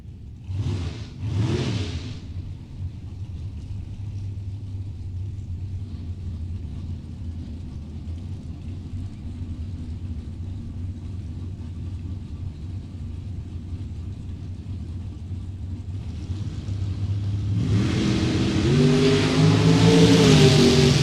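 Ashley Cook's S10 no-box pickup drag racing car at a Super Pro drag race event: a low steady idle rumble follows a brief early burst, then a loud engine roar swells near the end as the car revs hard.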